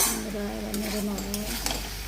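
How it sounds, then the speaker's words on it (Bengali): Prawns and vegetables being stirred in a frying pan for a fish curry, a utensil scraping and turning the food in a steady rhythm over a soft sizzle, close and fairly quiet. "এবার নেড়ে নেবো"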